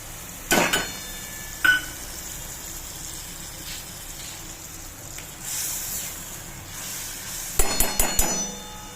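Onions fry in a pan for dahi tikhari with a low, steady sizzle, interrupted by several sharp metallic knocks and clatters of a spoon against the pan.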